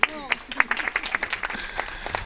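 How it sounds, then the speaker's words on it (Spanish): Audience applause at a town fair stage show in Torredonjimeno, with loose, uneven clapping and bright individual hand claps that rise and fall over a couple of seconds, mixed with some crowd murmur. "Señor, un aplauso."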